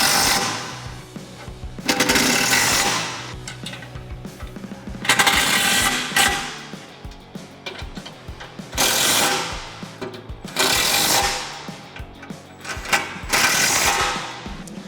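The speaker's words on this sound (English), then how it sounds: "we're going to use an 8mm Allen for the bolt head and an 18mm wrench for the nut" Tightening bumper bolts on a Jeep Wrangler JL with an 8mm Allen key and an 18mm wrench: close, repeated mechanical clicking and ratcheting bursts come in several loud spells between quieter gaps, with no talk.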